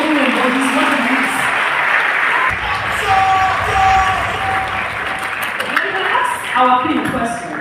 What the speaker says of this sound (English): Can I give it a round of applause for somebody who embodies what it is?